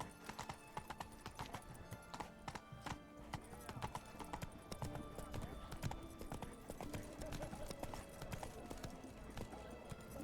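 Geralt's horse Roach from The Witcher 3 gallops, a rapid rhythmic clatter of hooves running steadily throughout under game sounds, with a voice speaking over it.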